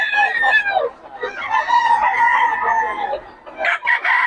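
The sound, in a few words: pumpkin sweater gamecock rooster crowing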